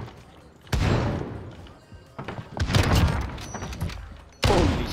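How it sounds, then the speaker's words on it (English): Gunfire in an online shooter game comes as several sharp close booming bursts and thuds, with a player talking excitedly between and over the shots. "he's shooting"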